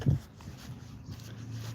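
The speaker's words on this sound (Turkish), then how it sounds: "Arkadaşlar karşıda bir köpek var." A single short bark or whimper from a dog in a village, faint and distant, followed by quiet outdoor background noise.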